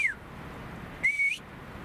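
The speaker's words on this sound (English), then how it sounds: "So my whistle's faint, real faint." Two short human whistles, the first a brief falling note and the second a level tone, heard over steady wind noise.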